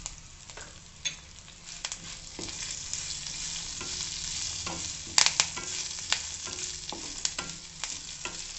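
Curry leaves fry in hot oil in a pan for a spicy onion chutney, a continuous bright sizzle punctuated by sharp pops and crackles, loudest around the middle, with occasional stirring and no voices.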